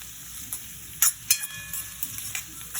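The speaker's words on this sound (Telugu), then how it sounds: "నూనెలోని ఉల్లిపాయ గోల్డెన్ ఫ్రైగా బాగా వేగిపోవాలి" Onions frying golden in hot oil for Chettinad pepper chicken, a steady soft sizzle with a few louder crackles and pops, close by and alone without talk.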